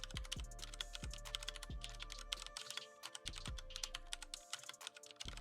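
Mechanical keyboard with Cherry MX Brown switches typing, a steady flurry of clicky keystrokes up close with a low thumping underneath, no talking.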